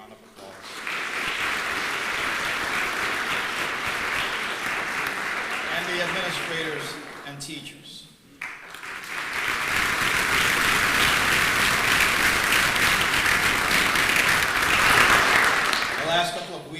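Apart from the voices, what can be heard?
audience applause for family members at commencement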